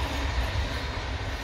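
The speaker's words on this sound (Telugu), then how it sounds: "ట్రైన్స్ కూడా పోతుంటాయి మా సమ్మర్ హౌస్ పక్కన" A train passing near a summerhouse garden in Sweden gives a steady, broad low rumble and rolling rail noise that holds at even loudness throughout, fairly close with no speech.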